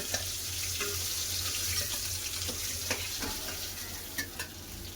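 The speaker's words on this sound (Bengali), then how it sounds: "সব মাছগুলো আমি এরকম করে ভেজে নেবো" Fish fries in hot oil in a wok, a low steady sizzle with occasional stirring scrapes and light clicks, fairly quiet.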